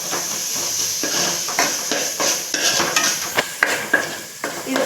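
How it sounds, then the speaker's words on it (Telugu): Chili powder is stirred into a fish curry in a pan: a run of spoon scrapes and clinks against the metal over a soft background hiss, close and moderately loud, with no talking. "ఇది కూడా బాగా నీట్గా మిక్స్ చేద్దామండి"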